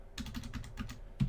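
Code is typed on a computer keyboard as a quick, close run of crisp key clicks at an even rhythm, ending in a slightly heavier keystroke, with no voices.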